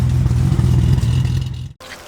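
A deep, steady engine rumble from a BMW E28's exhaust, held at a raised idle before cutting off abruptly near the end.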